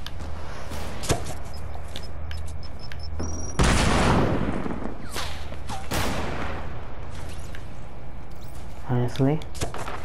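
Gunfire in the Fortnite video game, with sharp shots, a heavy blast and bursts of firing scattered through a busy game soundscape, while a player talks briefly.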